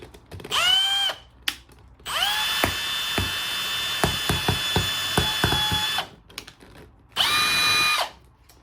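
A power drill bores drainage holes through a stack of plastic cups in three whining bursts, separated by pauses, clicks and light rattling.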